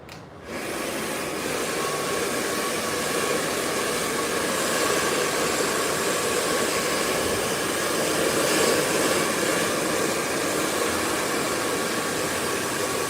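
Hair blow dryer running steadily during a haircut styling session, a loud continuous whooshing roar that starts almost immediately and holds unbroken to the end, with no talking.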